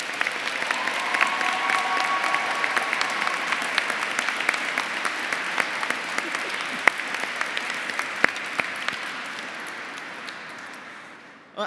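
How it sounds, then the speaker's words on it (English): A cathedral congregation at a graduation ceremony applauds the brass band and organist, dense sustained clapping echoing in the large stone space, loud and steady before tapering off at the end. "so give them a round of applause"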